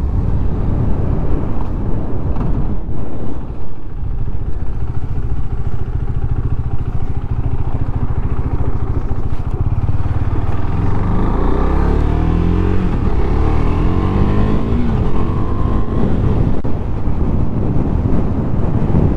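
KTM Duke 390 motorcycle on the move, a steady loud engine drone heard from the rider's position with heavy wind rumble throughout and a rising rev toward the end.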